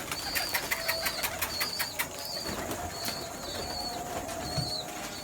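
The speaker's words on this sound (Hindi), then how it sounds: "आइए जी ज़रा एक दफ़ा फिर दिखा दें कबूतरों को।" Pigeons kept for breeding cooing in a loft or yard, with repeated soft calls and bursts of wing flapping, moderately close, alongside faint chirps and rustling and no talk.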